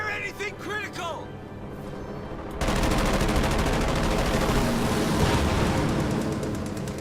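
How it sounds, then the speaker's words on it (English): Aircraft strafing run with .50 cal machine guns in Company of Heroes 2: Ardennes Assault, a dense continuous roar of rapid fire that bursts in suddenly and sustains, following brief talk at the start. "Flying 50s to the rescue. Strafing run inbound."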